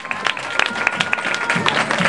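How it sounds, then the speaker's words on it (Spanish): Audience applause at a 2012 awards ceremony in Mexico, a steady crowd clapping that holds through the whole short stretch, fairly loud and without talk over it. "Fuerte el aplauso, por favor."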